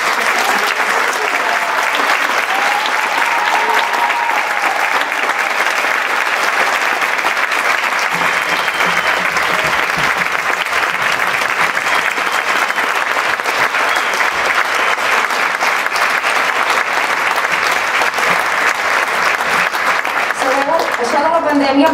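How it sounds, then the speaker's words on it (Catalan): Audience applause filling a concert hall after a UMB band concert at the Teatre Auditori Agustí Soler i Mas in Navarcles: dense, sustained clapping at steady loudness for about twenty seconds, with a few voices entering near the end. "os demanaria que tornéssiu a fer un fort aplaudiment"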